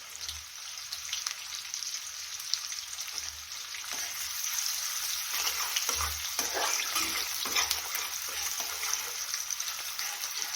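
Garlic hisses and crackles in hot oil for a dish of green chickpea leaves, a steady close sizzle that grows slightly louder, with faint scattered pops and light stirring ticks.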